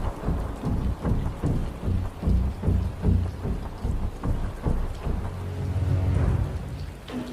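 A thunderstorm with driving rain: heavy rain hisses steadily while repeated low thunder rumbles roll in uneven bursts, close and loud throughout.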